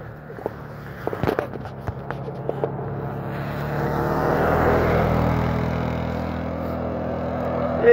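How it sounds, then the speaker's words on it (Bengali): An ATV bike ridden outdoors in Pahalgam, Kashmir, in the rain: a few scattered clicks and knocks at first, then a steady engine drone that swells and lingers, moderately near, with no voices. "এই যে এটিপি বাইকটা না, এই বাইকটা কিন্তু অসম্ভব সুন্দর লাগে আমার কাছে চালাতে"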